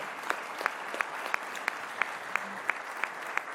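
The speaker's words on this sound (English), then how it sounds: "Guys, give yourselves a hand of applause." Sparse, regular clapping at a conference, with separate claps falling at a steady beat over a faint room hum rather than a full crowd ovation.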